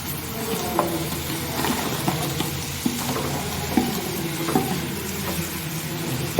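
Fried idli is stirred into masala in a pan, giving a spatula's scraping clinks and soft taps over a steady sizzle, close and moderately loud.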